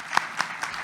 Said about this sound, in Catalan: un fortíssim aplaudiment per l'Iris